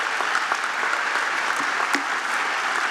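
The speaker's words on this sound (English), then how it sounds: "they can have a round of applause" Audience applause fills a room at a high school academic honors banquet, a dense, steady wash of clapping from many hands that carries on without a break.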